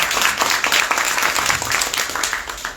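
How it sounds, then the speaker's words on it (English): An audience at a community conversation event in an African American museum in Dallas gives a dense, sustained round of applause, many hands clapping close together, fading slightly toward the end. "a round of applause for taking time"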